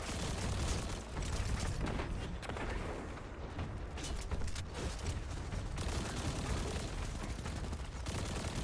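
Scorpius turrets firing in Destiny: The Final Shape, a dense, continuous barrage of rapid shots and blasts that stays loud and busy throughout, with brief dips in intensity and no voices.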